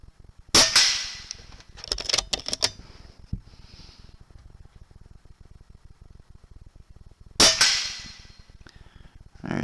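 Rifle shots at an outdoor range, fired through a scope with a night vision camera mounted on it, come as two loud sharp cracks several seconds apart, each trailed by mechanical clicks and a faint background hiss.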